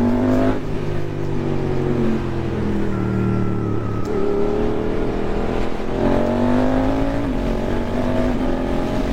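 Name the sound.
Suzuki GSX-8S motorcycle exhaust, decatted, revving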